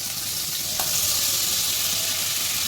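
Prawns sizzle hard in a pan with a ginger, garlic, green chili and onion paste, a loud continuous hissing fry heard up close, with a brief clink near the start and no voices.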